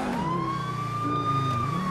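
Police car siren in the video game GTA 5 with the LSPDFR police mod, a loud, close wailing tone that rises and falls steadily and continuously over the engine.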